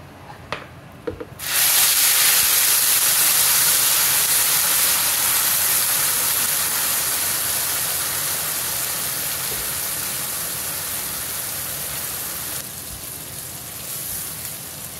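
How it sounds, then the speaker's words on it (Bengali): Onions frying in a pan while cooking an orange-flavored fish curry, a loud steady sizzle and hiss that starts abruptly after a brief quiet moment and continues without break, alone with no talk. "এবার একটু সময় এই পেঁয়াজগুলোকে আমি রান্না করব।"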